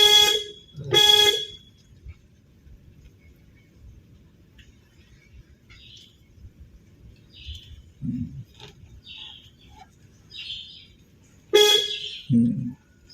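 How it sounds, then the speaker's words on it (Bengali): A car horn sounds during a beginner driving lesson on a real road, with two loud honks at the start and another pair near the end, separated by a quiet stretch of faint traffic and scattered bird chirps. "হর্ন দাও"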